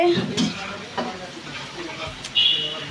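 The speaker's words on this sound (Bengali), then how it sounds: "এই যে তেলের ভিতরে পেঁয়াজ দেওয়া হয়েছে।" Onions sizzle in hot oil for birista in a home kitchen, a moderate frying hiss punctuated by a few stirring clatters and scrapes, while people talk over it.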